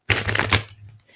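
Tarot cards shuffled by hand, a brief papery riffling burst of roughly half a second that stops abruptly, leaving a low steady hum behind.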